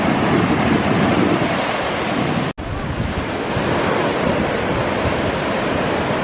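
Ocean waves roll and wash steadily onto a popular surfing beach within sight of Enoshima, Japan, with wind buffeting the microphone in a loud, continuous roar that breaks off for a moment.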